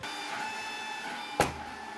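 A steady mechanical hum with whining tones from a Snapmaker 2.0 3D printer and its power supply running inside an enclosure, punctuated by one brief louder clunk.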